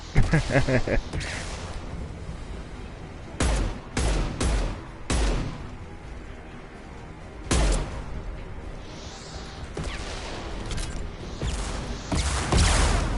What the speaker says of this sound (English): Oh man, multiple rocket launchers